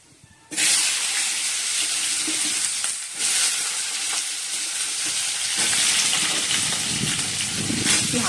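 A gas stove flame catches the wind under a pan of potatoes frying in hot oil with cumin and bay leaf. A loud, steady hissing sizzle starts abruptly and runs on continuously with small surges.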